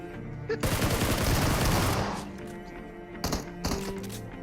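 Video game gunfire rattles in a dense, loud burst of rapid shots lasting over a second, followed by a few sharper isolated shots and thuds later on, with no talking.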